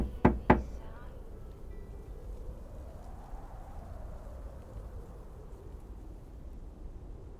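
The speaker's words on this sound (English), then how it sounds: "Knock, knock." Two sharp knocks on a door in the video game Lake, close and distinct, followed by a low windy, rainy ambience that lingers quietly for several seconds.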